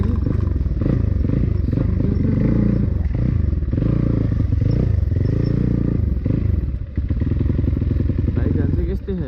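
A motorcycle jolts along a rough, broken road in Nuwakot with a loud droning engine, clattering and scraping over bumps throughout while a rider talks over it.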